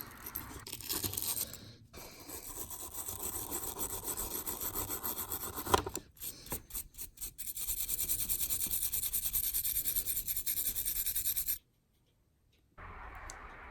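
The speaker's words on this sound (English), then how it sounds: "Just got to use a pick to get into some of the fine areas and get that paint out of there." A pick and brush scrape and scrub stripped paint from the body of a Lesney Matchbox Rolls Royce die-cast model, close, dry, rhythmic rasping strokes with brief pauses.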